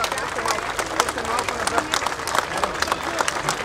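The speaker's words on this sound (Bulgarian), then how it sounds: "ще ви моля с аплодисменти" Audience at a sponsorship event for a Varna port and football club applauds with dense, steady clapping and sharp individual claps standing out, alongside crowd murmur and some talk.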